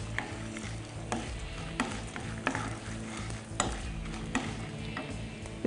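Cumin seeds sputter and crackle in hot oil in a pan alongside mustard seeds, a steady close sizzle with scattered sharp pops throughout and no voices.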